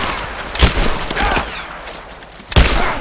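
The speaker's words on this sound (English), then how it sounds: "I'm under fire!" Gunfire in Rise of the Tomb Raider during a firefight, with a rapid volley of sharp shots and two heavier bursts over a busy, noisy battle background.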